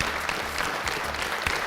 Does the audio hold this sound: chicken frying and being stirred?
no